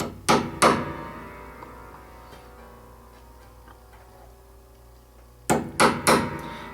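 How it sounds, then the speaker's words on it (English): A 1/8-inch metal sleeve set in a round hole of a grand piano muffler bracket is tapped with a hammer to form a dimple, giving two sharp close knocks, a quiet pause, then three more quick taps. "We're going to slide the 1/8" sleeve into the 1/8" round hole and just tap and make a little dimple."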